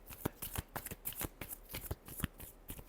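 Tarot cards are shuffled by hand in a quick, irregular series of soft riffling slaps, close and fairly quiet, with no talking.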